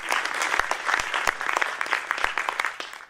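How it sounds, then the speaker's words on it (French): A theatre audience at a French stand-up comedy show breaks into dense, lively applause, many hands clapping at once in a bright, sustained wash that tapers off toward the end. "On peut applaudir, madame."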